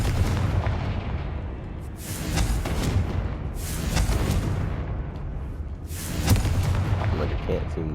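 Confringo fire spells cast in Hogwarts Legacy gameplay, several booming fiery bursts spaced a few seconds apart over game ambience, with a player talking intermittently.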